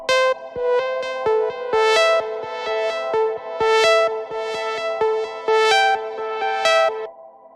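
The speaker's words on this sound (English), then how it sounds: "the bell lead sample that we started with is now like a half forward time, half back time pad that is like super tonal" A tonal synth pad built from a bell lead sample, half played forward and half reversed, rings out in rhythmic, sustained harmonic chords with sharp plucked attacks, loud and alone before fading at the end.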